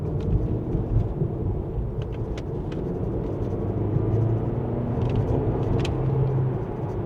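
A GAC Emzoom car driving in Sport mode gives a steady, loud, low rumble of engine and road noise from inside the cabin, holding throughout without a break.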